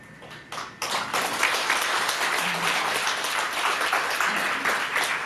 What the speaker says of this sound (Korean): 정말 박수를 보냅니다.